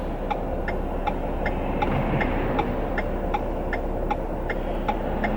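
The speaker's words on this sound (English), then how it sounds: "I love the sound of a turn signal." A car's turn signal ticks in a steady, even rhythm, clear and close inside the cabin over a low road hum.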